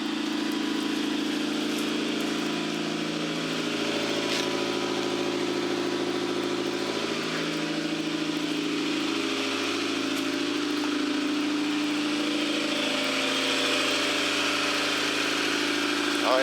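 Honda Civic EG hatchback engine idling with its exhaust fitted: a steady, even mid-low drone with slight wavering pitch, close and continuous throughout, with no revving.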